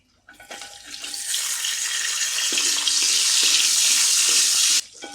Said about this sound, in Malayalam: നല്ല തിളച്ച എണ്ണയാണ് നോക്കുന്നത്. തേങ്ങക്കൊത്ത്,